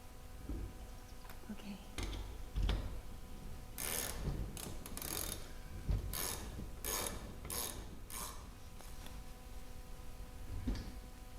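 Ratchet wrench driving a lag screw tight, clicking in repeated bursts of rapid ratcheting strokes with mechanical creaks and knocks between them, close and fairly loud.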